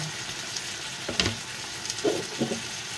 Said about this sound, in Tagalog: Palalabasin natin yung mga mantika ng chicken.